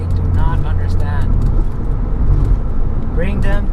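A Porsche 911 (996) Turbo S drives along a road, its engine a steady, deep drone heard from inside the car, with someone talking over it.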